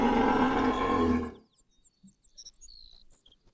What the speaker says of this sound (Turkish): bu ayı sesi değil mi ya?